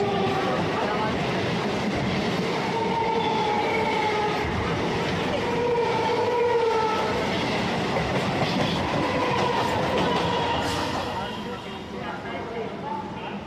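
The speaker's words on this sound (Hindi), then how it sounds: "अब हमारे ट्रेन को क्रॉस करेगी सियालदह बैरकपुर लोकल।" Sealdah–Barrackpore local train passing alongside on the Sealdah–Naihati main line, a steady loud rumble with clickety-clack of wagons heard from aboard another moving train, easing slightly toward the end.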